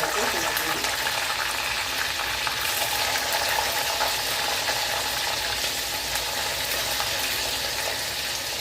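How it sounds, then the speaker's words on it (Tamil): Mustard seeds, curry leaves, cumin and fenugreek crackle and sizzle in hot oil for a traditional mustard kuzhambu, a steady dense frying hiss with fine popping throughout, close and fairly loud. "இப்போ பார்த்தீங்கன்னா கடுகு கருவேப்பிலை சீரகம் வெந்தயம் பொரிஞ்சிச்சு"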